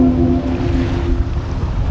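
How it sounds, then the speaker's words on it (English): Waves rolling onto the sand at Miami Beach on a sunny summer day, a continuous broad wash of surf mixed with wind buffeting the microphone and a faint low steady hum underneath. "It's a beautiful day here at the beach in Miami Beach"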